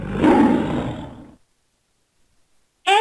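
A lion roars once, loud and close, a rough rumbling burst that fades into silence before a new sound starts at the end.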